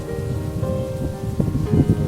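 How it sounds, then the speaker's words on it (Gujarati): Heavy rain pours down in a Gujarati village, a dense, steady patter that stays moderately loud through the short stretch with no voices. "જબરજસ્ત વરસાદ પડ્યો છે આજનો પણ"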